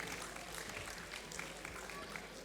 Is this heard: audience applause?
yes